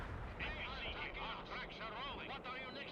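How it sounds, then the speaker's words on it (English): NATO artillery fire booms in a Cold War strategy video game set in Norway, heavy rumbling blasts under continuous radio chatter and voices in the game throughout. "Damn, NATO artillery accurate."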